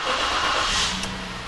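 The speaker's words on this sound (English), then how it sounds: "So I'm going to start the engine." A car engine cranks and catches during a diagnostic test session, its broadband roar steady and fairly loud through the whole short stretch with no voices over it.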